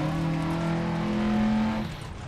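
Rally car engine from the game Dirt Rally 2.0, a steady droning tone holding level then dropping away near the end, no talk over it.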